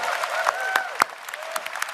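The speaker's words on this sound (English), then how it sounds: "let's give the Prime Minister a big round of applause" A crowd at a 2025 Canadian election campaign event applauds the Prime Minister steadily for about two seconds, the applause dense and close, with a few sharper individual claps standing out.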